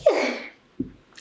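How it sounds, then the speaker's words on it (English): One abrupt, squeaky sneeze up close, followed by a soft breath afterward. "That was such a weird sneeze. It was so squeaky."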